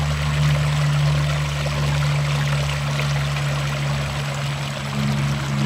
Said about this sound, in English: There's a little waterfall right behind me.